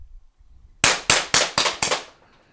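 An HDP50 launcher fitted with a speed loader fires five sharp, loud cracks in quick, evenly spaced succession after a brief quiet lead-in, each shot ringing off with a short tail.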